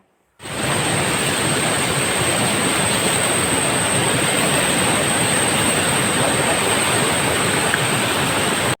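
A small forest stream swollen after several days of rain rushes past in a loud, steady, unbroken wash of water noise close by.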